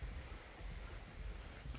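Water flowing in Yosemite, a steady broad rush without breaks, faint and distant with some wind noise on the microphone, no talk.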